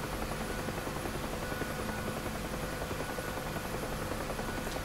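UH-1 Huey helicopter in the DCS flight simulator, played with a Simchair MKIII control set, its rotor and turbine a constant loud thrumming drone with steady rhythmic blade beat throughout, no voices.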